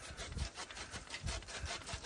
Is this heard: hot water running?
no